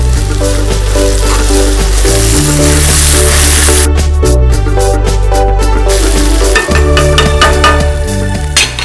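Boiled potatoes and curry leaves frying in a hot pan, a loud, steady sizzle and crackle that runs throughout, with brief scraping and clinking of a utensil partway through, no talking.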